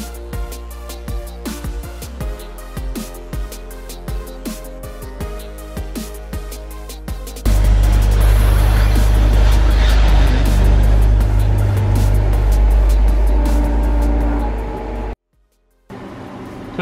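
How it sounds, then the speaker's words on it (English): A BMW E60 M5 is driven into a repair shop for throttle actuator replacement, a close, loud, steady engine drone following rattling, clicking sounds before it briefly cuts out near the end. "So I just pulled this E60 M5 in"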